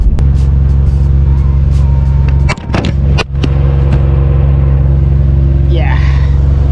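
A Nissan Skyline GT-R R32 rumbles deeply and constantly on a road, with a couple of sharp clicks midway and a brief rising whine near the end.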